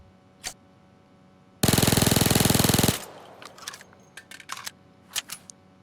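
Micro Uzi submachine gun in Payday 2 fires one rapid sustained burst of about a second and a half, loud and dense, followed by scattered clicks and small clatter.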